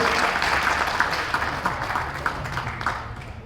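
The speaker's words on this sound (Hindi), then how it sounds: "जोरदार तालियां दोनों के लिए।" A crowd applauding at a site safety motivation program, dense clapping sustained throughout at moderate level, with some talk mixed underneath.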